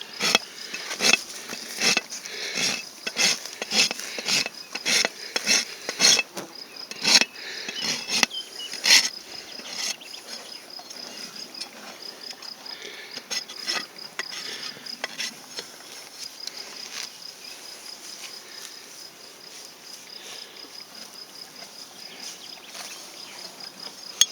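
Flies buzzing steadily close by around a horse during farrier hoof care, with a run of sharp clicks and taps early on, the buzzing continuing alone afterward.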